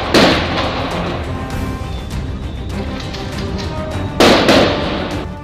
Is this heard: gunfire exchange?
yes